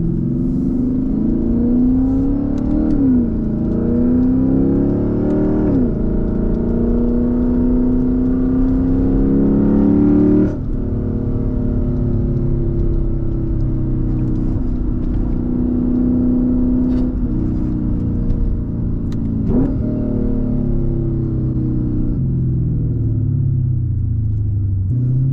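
A Lexus IS F V8 engine revs repeatedly, its deep growl rising and falling in close, loud pulls with brief dips between them.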